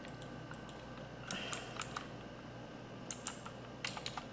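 Typing on a computer keyboard, with scattered clusters of light, close key clicks over a quiet background.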